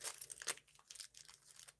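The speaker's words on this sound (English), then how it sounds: "I'm just gonna open up the bag and show you." Crinkly plastic rustling in irregular bursts, close by, with a sharper crackle around the middle, like a plastic bag being handled and pulled open.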